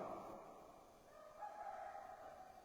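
A rooster crows in one sustained, fairly strong call that holds steady for a couple of seconds against a faint background, with no voices.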